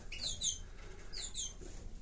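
Small canary chicks on a perch give two quick bursts of high, thin chirps, a pair of rapid calls in each burst, close and fairly faint, with nobody speaking.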